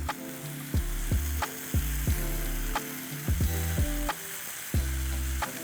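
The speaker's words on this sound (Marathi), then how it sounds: "पुन्हा थोडंसं परतून घेऊया सगळं" Cauliflower florets and a large skin-on potato sautéing in a pan, a steady oily sizzle punctuated by repeated clanking scrapes of a spatula stirring at an uneven rhythm, close and clear with no talk.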